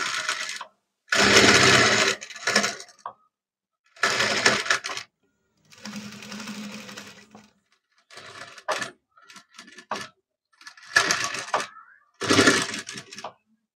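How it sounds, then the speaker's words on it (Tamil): A sewing machine stitches a blouse for Arya (embroidered) work in several short bursts of running stitches, separated by pauses and handling noises, with a steady loud whir during each run. "நான் உள்ள இருக்க ஜரி பார்த்து தாங்க அப்படியே ஸ்டிச்சிங் போடுறேன்."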